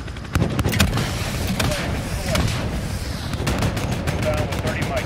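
Apache attack helicopter cannon fire during a combat action, dense irregular bursts of gunfire layered with heavy rotor and engine rumble, with radio chatter underneath throughout.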